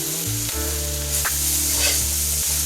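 Collard greens simmering in a skillet, a soft steady sizzle under a loud, sustained low hum that holds throughout, with a few faint clicks and small bursts of bubbling.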